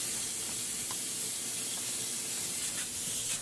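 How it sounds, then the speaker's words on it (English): Technician spraying polyurea coating onto a Marley Aquatower cooling tower during a leak repair, a steady close hiss of spray that runs throughout with a few faint clicks and knocks, no talking. "The technician is spraying the polyurea and using a Teflon blade to paddle the poly into the cracks"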